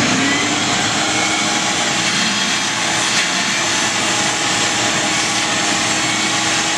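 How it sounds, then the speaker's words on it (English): A vacuum cleaner sucking up concrete dust around a drilled hole during a Nussbaum SPL lift installation, giving a steady, loud broadband roar with a constant whine that runs unbroken throughout. "we're just going to vacuum this all up"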